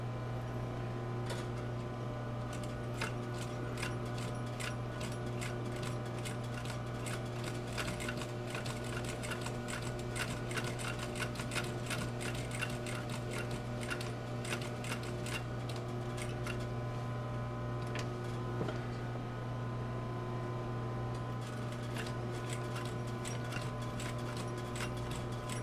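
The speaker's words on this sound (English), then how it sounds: "I'm going to just stitch all the way around." Sewing machine stitching a quarter-inch seam around a leather bag without lining, a constant motor drone with fast rhythmic clicking stitches, close and steady with brief pauses.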